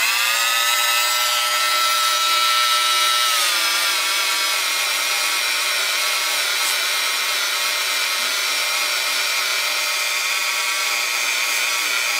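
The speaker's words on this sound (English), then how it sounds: "Just polishing my pubes. Polishing my pubes for Jessica." A rotary tool polishes a small resin keychain with hair embedded in it, giving a steady, close, whirring grind with a high whine that shifts slightly in pitch as the speed changes, with no talking.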